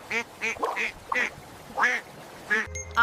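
A cartoon duck from a Bengali village comedy quacks in a series of about seven short, bright, nasal calls spaced unevenly, each one clear and close with no other sound between them.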